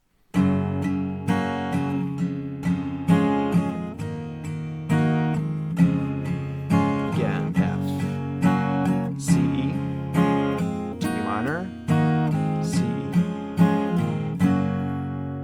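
A guitar strums chords in a steady repeating rhythm, each stroke ringing bright and clear, playing alone without any voices.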